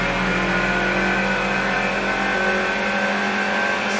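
Station wagon engine in Gran Turismo 2 racing hard against a Mitsubishi Lancer, a steady droning whine held at high revs throughout, loud and close with no talk.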